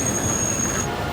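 A train pulling into Rennes station in France, a steady loud rolling rumble with a high whine overhead that cuts off near the end, no voices present.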